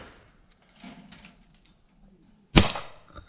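A single sharp shotgun report at a clay pigeon ground, loud and sudden near the end, preceded by faint murmured talk and quiet handling noises.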